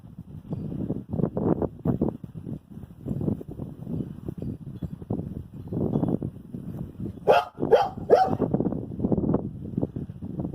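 A neighbor's dog named Parker making close, low woofs and grumbling vocalizations in an irregular series, with a brief sharper yip or whine near the end.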